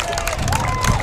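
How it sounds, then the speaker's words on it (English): Soccer crowd at a Lane United FC match against Portland Timbers U-23s cheering and applauding a saved shot, a brief, steady swell of distant voices and clapping. "Crowd appreciated that one, though."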